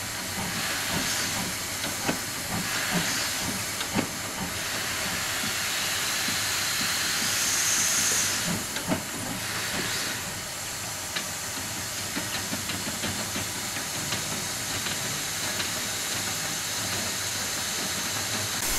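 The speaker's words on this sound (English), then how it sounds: "These wet rails are so slippery that even though the wheels are going forward, the engine starts to slide backwards." Ng15 class steam locomotive No. 123 struggling on wet, slippery rails on an uphill grade, hissing steadily with bursts of steam and irregular chuffs as the wheels slip, loud and continuous throughout.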